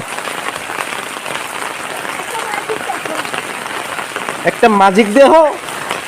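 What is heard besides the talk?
heavy rain falling outdoors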